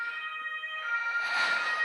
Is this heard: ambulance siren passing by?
yes